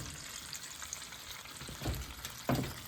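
Apple pieces frying in a pan give a soft, continuous sizzle, fairly quiet and close, with two brief louder crackles or pokes near the end.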